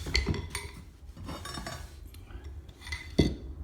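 A steel chisel scrapes and clicks along the tongue edge of hardwood flooring boards, a faint run of light metallic ticks, scrapes and small knocks with a sharper knock near the end.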